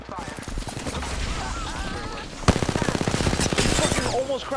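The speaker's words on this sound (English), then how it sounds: "I'm taking fire." Rapid bursts of automatic gunfire rattle in the battle royale game Apex Legends, the fast rhythmic shots loud and close, briefly louder after a sharp crack midway, with voices talking over the firing.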